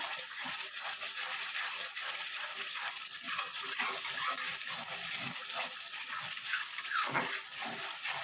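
Spice paste for a Bombay duck curry fries in a pan with a steady wet hiss, while a spoon stirs it in soft irregular scrapes, close and moderately quiet.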